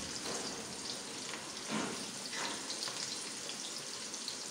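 Onions fry in lightly heated oil for spinach-potato curry, giving a steady, close sizzling hiss throughout with a few brief louder crackles and no talking.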